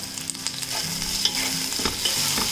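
Curry leaves sizzle in hot oil while being stirred, a crisp continuous frying hiss with soft scraping strokes, close and without talk.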